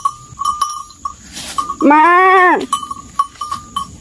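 A yellow cow gives a single loud, drawn-out lowing call, near and strong, framed by rhythmic clinking and shuffling noises before and after, with a brief spoken word nearby.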